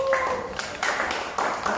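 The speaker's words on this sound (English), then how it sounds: "everyone, a round of applause for Tanya" An audience at a Q&A event in Bali gives a short burst of applause, scattered claps rising in a few quick waves over a faint background, fairly close by.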